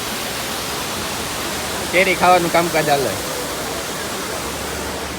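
Steady broadband roar of a waterfall runs through the whole stretch, loud and close, with someone speaking briefly over it in the middle.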